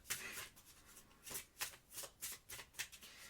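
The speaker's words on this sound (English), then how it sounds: "let me just shuffle this out of the Oracle deck" An oracle card deck is shuffled by hand in short repeated bursts, crisp papery riffles and slides coming in an uneven rhythm, close and fairly quiet.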